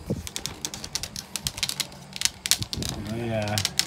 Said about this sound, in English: zip tie that on there